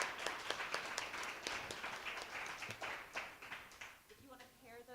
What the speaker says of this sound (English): So let's give a round of applause for all our storytellers.